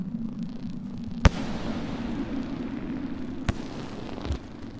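The Artificer sets off explosions in Rain World Downpour: two sharp, sudden blasts stand out above a constant low rumble of game ambience, followed by a softer thump near the end, with no talking.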